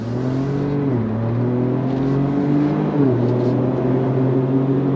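A 2025 Ford Ranger Raptor engine revs on throttle, loud and close, with a sustained droning growl. Pitch shifts down and back up twice, as if through gear changes.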